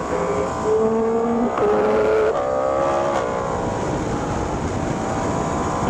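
Motorcycle engine on a mountain road during an uphill ride with a Yamaha MT-10, Ducati Panigale V4S, Honda CB650R and BMW S1000XR, a steady loud engine drone with shifting revving tones and wind noise, no talking.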